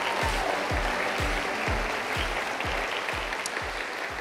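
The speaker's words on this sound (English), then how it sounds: "Clap it up one more time." An audience at a sports awards ceremony claps together in a steady, full round of applause, while a low thumping beat pulses regularly underneath.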